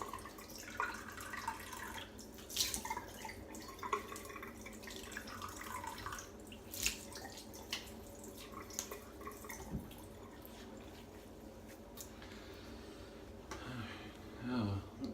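A Feather safety razor is rinsed under a running tap, with a steady stream of water, irregular drips and splashes continuing throughout at close range and moderate level.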